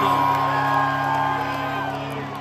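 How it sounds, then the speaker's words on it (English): A huge outdoor crowd at a concert at The Pavilion at Star Lake in Burgettstown, Pennsylvania, roaring and whooping in a steady, dense wash that holds loud throughout. "This may be the largest crowd we may have ever played in outside of Woodstock in our career."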